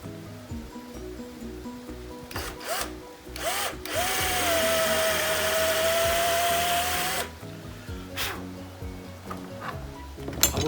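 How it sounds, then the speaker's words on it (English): A power drill boring a hole, spinning up briefly a couple of times and then running steadily for about three seconds at a whining pitch, with quiet handling knocks before and after. "So now what we do is we drill the M1."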